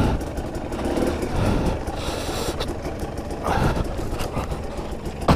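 A 2020 Husqvarna TE300i two-stroke dirt bike engine runs low and rough on a descending trail, a continuous near rumble with slight surges and no talking.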